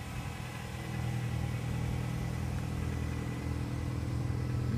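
2008 Nissan Sentra engine idling after keyless start, a steady low hum close by with a faint slight rise in pitch near the end, no other sounds.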